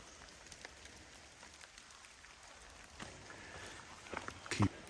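Rain falls on a forest trail near a lake, a faint, steady patter and hiss with scattered drips and a couple of louder taps near the end. No one speaks.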